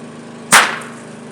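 A single sharp crack from a popper folded from one sheet of paper, snapped once, loud and close, fading quickly in a quiet room.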